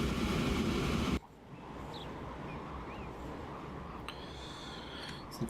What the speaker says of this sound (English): The train goes through Gamboa.